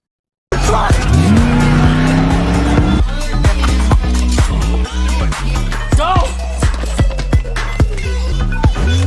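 A car speeds off with loud, close tire squeals in a film scene, the screech rising at first and followed by continuous engine roar and repeated skidding bursts.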